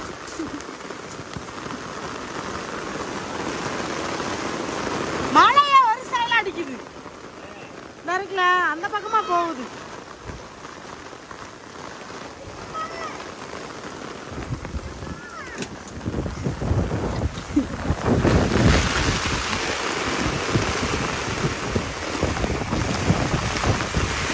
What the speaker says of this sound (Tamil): பாருங்க காத்து மழையும் புயல் எடுத்துருச்சு